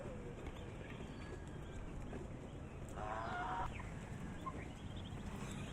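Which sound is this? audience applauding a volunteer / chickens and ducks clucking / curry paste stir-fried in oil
chickens and ducks clucking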